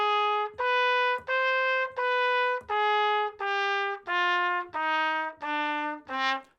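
Trumpet plays a D harmonic minor scale, grade 2 level, ten clear sustained notes tongued one after another at a steady pace, near and alone with no talk.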